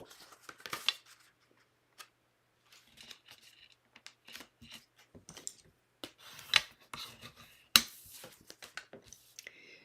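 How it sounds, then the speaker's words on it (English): A paper card being folded and creased, with repeated crisp rustles and scraping strokes of varying loudness, close and otherwise quiet. "let's fold our card"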